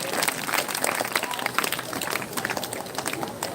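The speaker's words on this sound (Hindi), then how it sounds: "तालियां बजा दो राजा जी के लिए।" Dense, steady applause from an audience at a school Independence Day celebration in 2022, a continuous patter of many hands clapping through the whole stretch with no break.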